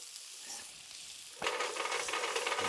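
Butter hits a hot pan holding venison loin and bursts into a loud, steady sizzle partway through, following a quieter low hiss.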